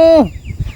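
A single short, clipped chicken cluck close by, dropping in pitch, followed by faint low background noise.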